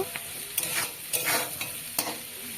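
Chilli paneer stirred in a pan right after salt is added: soft continuous sizzling broken by several distinct scraping stirs of the spatula, close and fairly quiet, no talking.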